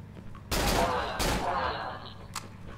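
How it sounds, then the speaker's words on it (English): Gunfire in the horror video game Cry of Fear: two loud close shots in quick succession, each ringing out briefly, followed by a fainter sharp click or shot near the end. "I shouldn't even be shooting the gun at this dude."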